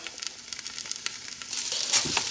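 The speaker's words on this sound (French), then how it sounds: "on fait revenir le morceau de bœuf dans l'huile, le pâte de tomate et le beurre" A piece of beef browns in hot oil with tomato paste and butter for kalalou, a close, steady sizzle with crackling spits that turns denser and louder partway through, with faint stirring underneath.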